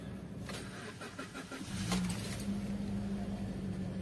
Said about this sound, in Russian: Перед удалением катализатора, запуск после холодной парковки ночью.